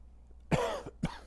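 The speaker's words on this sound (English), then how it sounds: "I cough. I smoke a pipe. That's probably why I cough." Two short, close coughs about half a second apart, the first louder and rougher, with quiet background between them.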